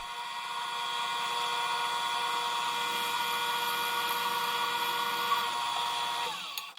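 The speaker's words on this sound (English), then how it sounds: "I just drilled a couple holes" A Metabo drill bores a couple of holes in scrap wood, its motor giving a steady, continuous high whine close by that holds for several seconds before winding down.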